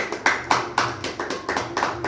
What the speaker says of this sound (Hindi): एक जोरदार और शानदार तालियों से करूँगा वेलकम